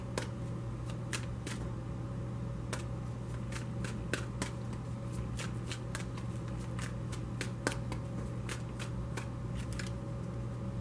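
Oracle cards being shuffled for a love tarot reading, a run of crisp riffling snaps and flicks repeating at an irregular rhythm over a steady low hum, close and alone.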